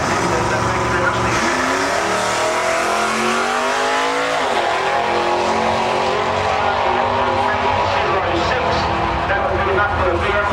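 Drag racing cars blast down a drag strip, engines revving hard through rising gear changes in a loud, continuous roar.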